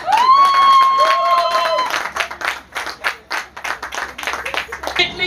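Audience applause breaks out at a Christian teaching event on marriage, with a voice sustaining high tones over the first two seconds before dense, rhythmic clapping and crowd noise carry on loudly to the end.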